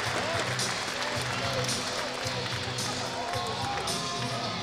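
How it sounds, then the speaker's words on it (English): Fans applaud steadily through a Saturday night session of the indoor cycling World Cup Finals in Las Vegas, a dense wash of clapping that lasts the whole moment while a commentator talks over it. "And Crystal Goldman both getting a nice round of applause from the fans here in Las Vegas"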